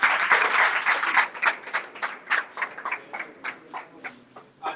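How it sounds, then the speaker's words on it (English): Scattered clapping from a small group at a gallery unveiling, a brief burst of hands at first that thins into sparse, uneven claps heard nearby. "Do I deserve a clap for that?"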